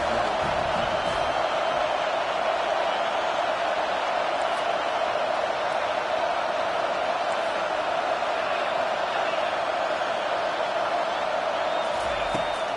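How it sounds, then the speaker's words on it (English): A football stadium crowd grows loud behind the defense on a third down, a dense steady roar filling the whole space, with a commentator talking over it. "Decibels rising as the crowd gets behind this defense on 3rd down"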